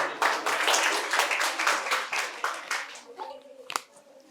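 A crowd at a quiz competition prize-giving in a medical college hall claps loudly and steadily for about three seconds, then the applause thins into scattered claps with a few children's voices and stray sounds near the end.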